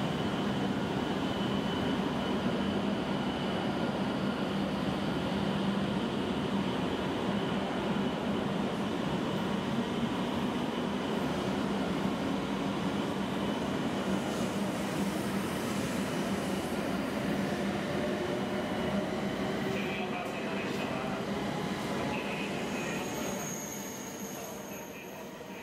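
E7 series Hokuriku Shinkansen trainsets F23 and F24, running as the special Asama 685 service, pass with a loud, steady rushing roar that holds for about twenty-five seconds before easing slightly at the end.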